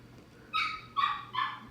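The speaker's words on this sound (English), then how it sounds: "Excuse my little dog in the background." A small dog whines and yips three times in short high-pitched bursts, moderately close, with a faint steady hum in the background and no talking.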